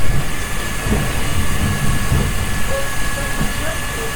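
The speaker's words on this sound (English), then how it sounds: "The nice gentlemen bin men are relieving me of my waste." A bin lorry collects rubbish outside, giving a steady, loud, low rumbling drone with faint clanks for the whole stretch, while a voice talks over it.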